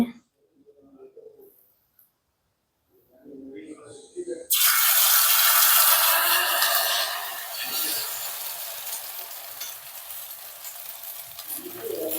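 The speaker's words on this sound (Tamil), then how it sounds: "நாங்கள் இப்போ கலக்கி வச்சிருக்கிற முட்டையை விட போகிறோம். அடுப்பை கொஞ்சம் சிம்மில் வச்சுட்டு" Beaten egg is poured into a hot pan and bursts into a loud, bright sizzle that holds steady and then eases slightly, preceded by quieter kitchen handling and a few low murmurs of talk.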